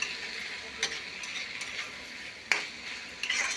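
Soaked tamarind goes into a pan of cooking eggplant and tomato: a soft steady sizzle with a few sharp spoon-and-pan clinks and scrapes at intervals, near and fairly quiet, no talking.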